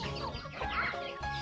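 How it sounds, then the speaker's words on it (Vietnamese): Chickens and Muscovy ducks on a farm cluck and call over one another in a busy, continuous flock chatter, fairly faint with a muddy background. "Wow, rất nhiều gà luôn. Gà ngan nữa."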